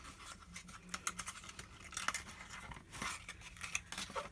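Paper edges of a handmade treat box card being folded and creased, a run of close, crisp scratchy rustles and light crackles with no talking.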